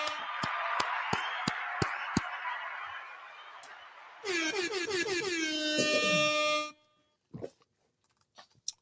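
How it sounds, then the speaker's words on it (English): A burst of sharp claps is followed by a loud blaring air horn sound with falling pitch sweeps, then a few scattered hits as it cuts off. "First of all, let's clap it up and get some air horns for LeBron James becoming the all-time leadi"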